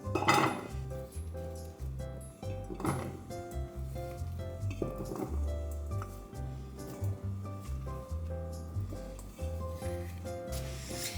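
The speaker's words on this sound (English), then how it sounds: "So I'm gonna take my Instant Pot here and get it ready to add in all the potatoes" Raw potatoes tumbling into an Instant Pot's metal inner pot, with a series of clattering knocks and clinks against the steel, close and fairly loud, over a low steady background hum.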